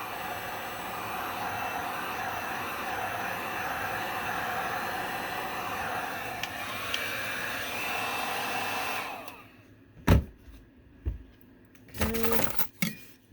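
A hair dryer blows steadily and loudly on wet paint for about nine seconds, then switches off, followed by a few short scraping and handling knocks.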